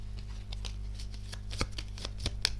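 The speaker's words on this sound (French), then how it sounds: "je vais recouvrir certaines cartes" Tarot cards being handled and laid down to cover others during a reading, a series of soft papery slides and taps against a quiet low hum, no speech.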